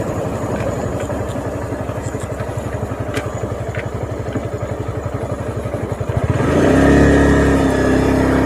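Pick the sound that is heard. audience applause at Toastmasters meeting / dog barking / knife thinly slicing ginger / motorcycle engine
motorcycle engine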